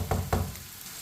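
Spices sizzling in a pan for bhindi fry, with a steady hiss broken by two quick stirring scrapes close by.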